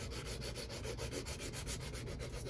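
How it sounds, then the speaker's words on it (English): A part of an HO scale steam engine kit is sanded by hand with quick, rhythmic back-and-forth rubbing strokes, close and steady, with no voices. "just a little more sanding and that part will be ready"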